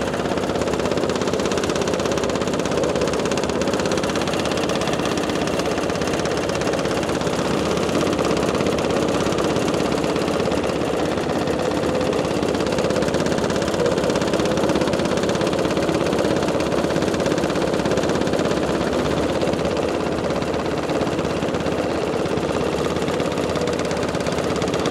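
A Keestrack R3h impact crusher's engine runs steadily at close range, a loud, constant mechanical drone with no pauses for the whole stretch.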